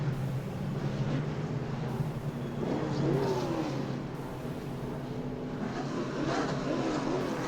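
Pro trucks racing at New Smyrna Speedway, a steady mid-distance engine drone from the field coming off turn four, holding a continuous roar throughout with slight swells as trucks pass.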